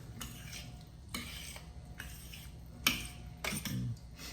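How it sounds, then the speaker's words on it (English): A spoon stirs chili powder into a chicken and rice taco casserole mixture, giving several distinct scraping, clinking strokes against the dish with short pauses between them, close and fairly quiet. "And give that a stir."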